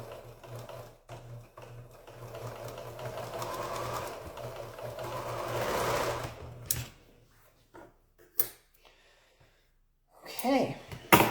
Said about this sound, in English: I'm just going to sew that again real quick